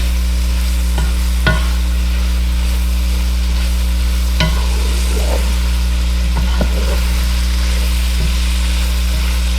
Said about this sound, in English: You want to saute these vegetables, these peppers and onions, until the onions are nice, soft, and translucent